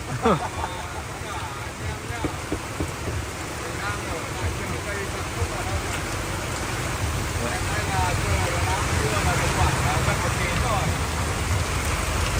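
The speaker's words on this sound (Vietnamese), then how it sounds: "Trời mưa thì mặc trời mưa." Heavy rain pours steadily over an open-air bonsai market, a dense continuous hiss that builds slightly louder toward the end, with faint voices and passing traffic in the background.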